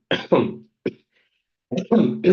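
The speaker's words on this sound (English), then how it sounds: "I have a cough." A few short, harsh coughs close to the mic, in two quick bursts separated by a brief pause.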